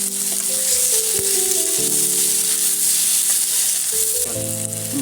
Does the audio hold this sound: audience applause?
no